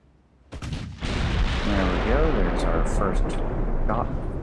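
Naval artillery booms from warship guns in the naval combat game Ultimate Admiral: Dreadnoughts, two sharp blasts followed by a sustained roar of heavy fire, with someone talking over it throughout.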